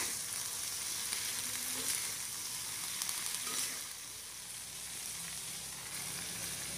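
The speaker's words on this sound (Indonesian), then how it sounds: "kita masukkan potongan kangkung yang sudah kita cuci bersih kita masukkan semuanya ya teman-teman kemudian kita aduk sebentar" Water spinach (kangkung) stir-fries in a pan with a steady, loud sizzle and intermittent stirring scrapes, the hiss easing slightly in the second half.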